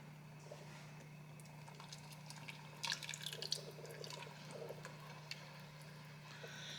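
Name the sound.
pouring coconut milk into chowder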